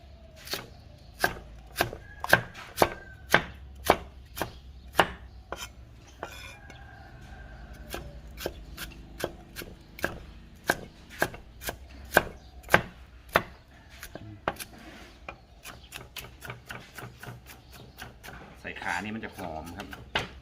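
A knife chops duck legs into small pieces on a cutting board, a long run of sharp, steady thuds that speed up near the end, with faint kitchen clinks and quiet talk.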